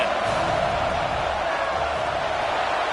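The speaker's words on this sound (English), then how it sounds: "This crowd trying to do its part to get inside the kicker's head." Roaring stadium crowd at a college football game in College Football 26, Oregon versus Rutgers, a steady dense wash of cheering and noise held at an even level while the kicking unit lines up for a long field goal.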